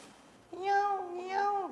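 A ghost cat meows in two drawn-out, wavering cries, close and fairly loud over faint background hiss.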